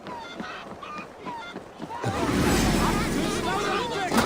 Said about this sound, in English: You mean Hemminger's famous fighting roosters?